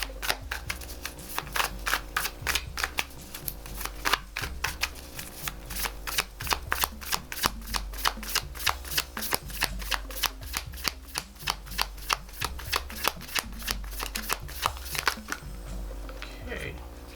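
Bright Future Tarot cards are shuffled over and over in a fast, steady rhythm of crisp riffling snaps, close and clear, with no voice over them.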